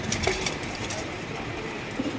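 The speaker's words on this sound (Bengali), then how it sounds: "ওটা সিরাজি ভাই। সিরাজি কবুতর" Sirazi pigeon cooing at a farm, faint low coos blending into steady ambient noise, with a slightly louder burst near the end.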